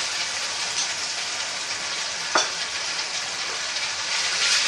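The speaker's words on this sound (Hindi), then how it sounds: "लहसुन अदरक का पेस्ट डालने के बाद इसे और भूनेंगे।" Ginger garlic paste sizzling and frying in oil with browned onions, a steady close hiss throughout with a brief clatter of stirring midway and no talk.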